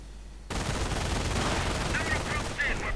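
Machine gun bursts and scattered gunfire crackle continuously in a World War II strategy video game battle, loud and dense, kicking in sharply after a short quiet start.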